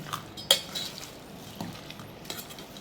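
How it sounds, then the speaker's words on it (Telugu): A spoon stirs ivy gourd and peanut chutney mixed with a curry-leaf tempering, giving a few soft scrapes and one sharper clink against the bowl, close and brief, with no talking. "మంచిగా కలుపుకోండి"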